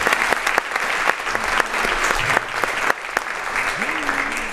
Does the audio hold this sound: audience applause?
yes